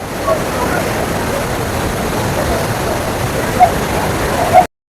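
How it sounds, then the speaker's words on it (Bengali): A river current roars through a sluice gate, a loud, continuous rushing and churning of water that stays constant before cutting off abruptly near the end. "পানির কত স্রোত পানির শব্দে কোনো কিছু শোনা যায় না"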